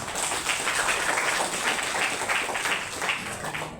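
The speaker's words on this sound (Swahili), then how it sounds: "Hebu mjipigie makofi" An audience at a Mombasa County sports and youth event breaks into steady applause, a dense wash of clapping that holds evenly throughout without pause.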